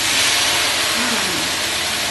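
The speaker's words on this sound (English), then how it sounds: "Sizzling sounds." A loud, steady broadband hiss of a mushroom stir-fry sizzling on high heat fills the whole clip without pause.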